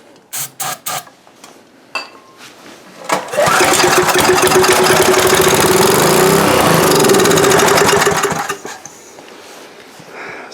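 A Coleman Powermate 5HP generator with a suspected carburetor fuel pickup fault: several sharp pull-start attempts, then the engine catches and runs loud and steady for about five seconds before cutting out.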